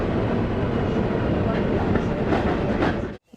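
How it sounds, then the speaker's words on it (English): A commuter train rolls along the rails with steady broadband rumble and faint rhythmic clatter, loud and close from onboard, cutting off abruptly at the end. "I go ahead and get on the train."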